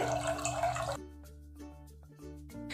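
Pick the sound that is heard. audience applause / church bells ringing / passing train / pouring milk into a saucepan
pouring milk into a saucepan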